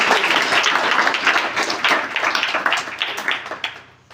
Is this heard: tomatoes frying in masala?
no